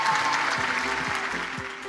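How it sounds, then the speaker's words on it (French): Audience applause at a parents' recognition gala, a steady wash of clapping from a crowd at moderate distance, with faint voices or tones murmuring underneath as it slowly fades. "Encore une fois, on peut les applaudir encore."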